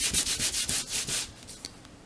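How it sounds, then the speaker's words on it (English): Rhythmic rubbing strokes scrubbing a craft mat clean, a close, hissing back-and-forth swish repeated about eight times, fading toward the end, with no voices. "every time you do a project, you want to come over and really give it a good rub"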